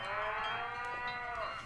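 A cow moos in a Nancy Drew ranch game, one sustained, fairly quiet low call that holds steady for well over a second before tailing off.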